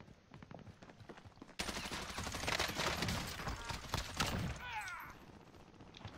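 Rapid assault rifle and LMG fire rattles through a Call of Duty Warzone match, a dense sustained burst of automatic shots that swells loud and then thins out over steady background noise.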